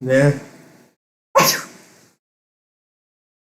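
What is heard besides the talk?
sneeze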